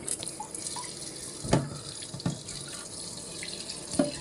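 Tap water running over squash, eggplant and okra being washed in a sink, a steady hiss of flow with a few splashy bumps as the vegetables are handled, close and moderately loud.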